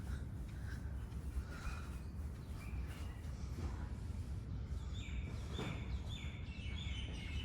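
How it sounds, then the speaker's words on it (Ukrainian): Birdsong outside a hotel balcony in Dubai overlooking a garden, pool and sea: several short chirping calls ring out over steady low outdoor background noise, growing busier and clearer in the second half. "Чуєте, пташки співають."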